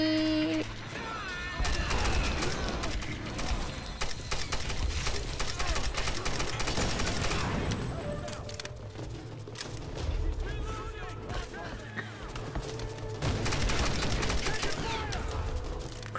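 Assault rifle fire in the Tomb Raider video game crackles in repeated loud, rapid bursts that run almost continuously, layered over dense game effects and background music, with a brief lull partway through before the shooting picks back up.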